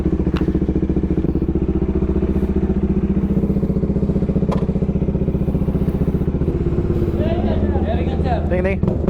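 Motorcycles ride off after an event in Capas, Tarlac, their engines droning loud and steady up close with a few clattering thumps and a rider speaking over the noise.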